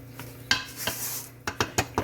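A spatula scrapes and knocks against a mixing bowl of creamed butter and sugar for a Louisiana crunch cake, giving a soft scrape followed by several sharp, close clinks in quick succession.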